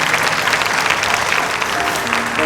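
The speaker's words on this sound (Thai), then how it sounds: "ขอเสียงปรบมือ" A studio audience at a Thai talk show applauds steadily for a reunited couple, a dense, even wash of clapping that fills the whole stretch with no voices over it.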